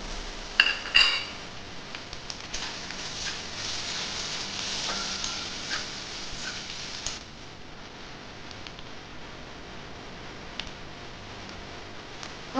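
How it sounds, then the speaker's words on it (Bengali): Panch phoron five-spice, dried red chillies and three bay leaves fry in hot oil in a kadai for a Bengali pui shak and pumpkin charchari, giving a steady close sizzling hiss with a few utensil clinks, loudest early, with no talking. "তখন আমি এই পাঁচফোড়নটা দিয়ে দিচ্ছি।"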